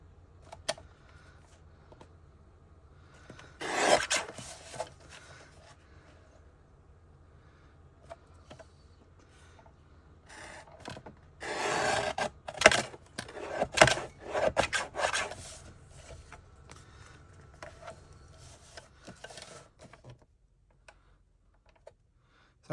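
Pitch black and other cardstock being trimmed around the edge for a handmade Halloween card, heard as scattered soft scraping and cutting strokes in two busy bursts, with quiet handling between them and no talking.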